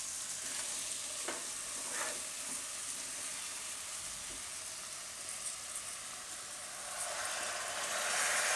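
Pumpkin khichdi goes into a hot pan and sizzles steadily while a spoon stirs and scrapes it in a few distinct strokes. The frying hiss swells again toward the end.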